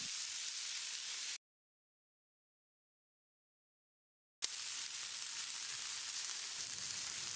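Chopped tomato sautéing with onions in a hot oiled pan, a steady loud sizzle broken by a gap of silence before the frying hiss resumes.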